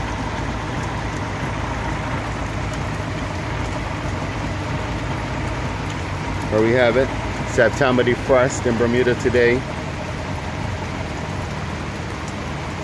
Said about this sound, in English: there you have it, the V4 Johnson running in the rain.